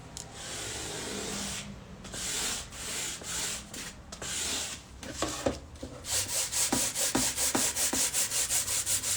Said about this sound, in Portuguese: E aí já vou passar a minha lixinha aqui.